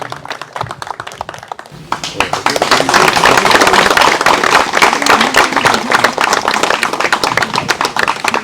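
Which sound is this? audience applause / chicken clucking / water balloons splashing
audience applause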